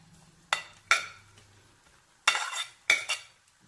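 A utensil stirs fried rice with carrot in a pan, making four separate scraping clatters of metal on the pan, each followed by a brief sizzle, with quiet gaps between them.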